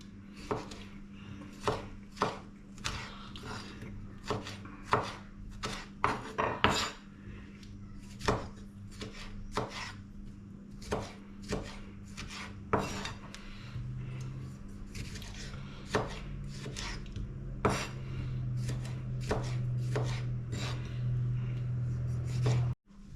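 A knife chops sun-dried tomatoes finely on a board, sharp repeated taps in an uneven rhythm spread throughout, close and crisp against a low background hum.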